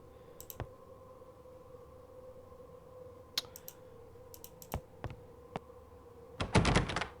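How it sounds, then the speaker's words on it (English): In the video game Agatha Christie: Murder on the Orient Express, a locked door on a snowbound train is tried. Scattered soft clicks lead to a short, rattling burst of the handle being forced, heard alone against a quiet hum. "This door is tightly locked."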